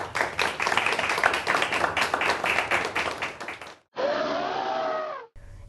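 An audience claps and applauds for a community honoree, a dense, steady burst of many hands lasting several seconds before cutting off, followed by a short sustained tonal passage.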